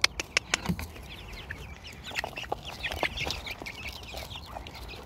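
Young chicks and a young rooster outdoors, giving a few sharp close calls at the start, then scattered softer clucks and peeps over a faint background.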